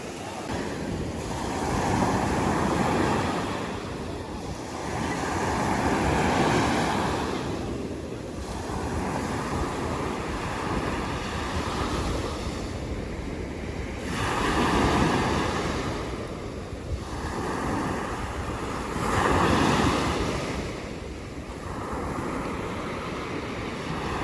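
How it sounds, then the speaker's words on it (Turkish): Sea waves surge and break on the shore at Silifke, Turkey, in steady rolling swells, roughly every five seconds, with a continuous wash of surf and some wind noise between crests. "Birazcık kendime su sesi, dalga sesi depolayayım."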